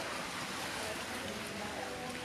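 Ocean waves at night by the sea, a steady broad wash of surf with soft wind, continuous and moderately distant, no voices.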